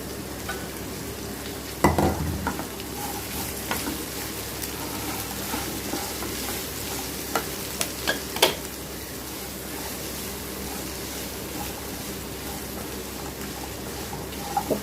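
Snake gourd pieces stir-fry in a pan of tempered onions, giving a steady close sizzle broken by the scrape and clack of a spoon, with a louder knock near the start and scattered taps afterward.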